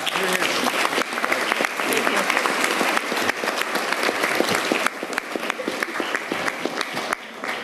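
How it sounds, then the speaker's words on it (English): A crowd at a New York City event announcing arts programs for students claps loudly and continuously, a dense, even burst of applause held for several seconds. "I want to ask the members of the band to join me in clapping louder for Aramatis"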